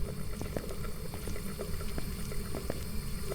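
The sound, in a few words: running water in Phasmophobia video game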